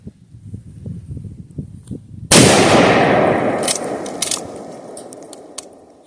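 After quiet, cold wind noise outdoors, a single loud shot from a Remington 7400 Woodsmaster rifle cracks sharply and its echo rolls away slowly over several seconds.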